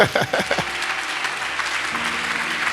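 A church congregation applauds to acclaim the Lord, steady sustained clapping from a crowd lasting throughout, with a few louder voices near the start.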